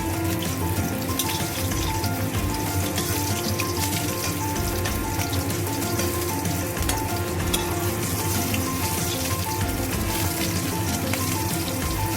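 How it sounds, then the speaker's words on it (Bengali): Catla fish sizzles steadily in a little hot oil, a loud, continuous frying hiss with no pauses and no voices. "আমার মাছগুলো ভাজা হয়ে গেছে"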